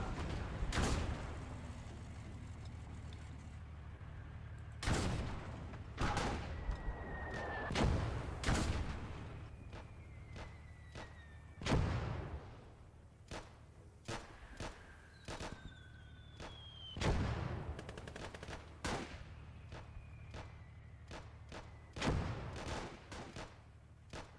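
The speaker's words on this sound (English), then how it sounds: "I'm trying to see where that mortar is." Mortar and gunfire from the World War II game Gates of Hell: sharp shots and heavy blasts go off one by one at irregular intervals, some near and loud, some more distant, with faint whistles and a low rumble between them.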